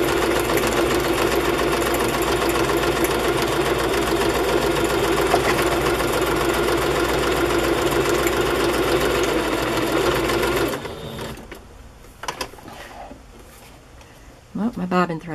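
Sewing machine stitching the signatures of handmade circus-themed journals, a steady loud mechanical whirr running continuously for about ten seconds, then stopping, followed by quieter handling clicks and brief movement noises.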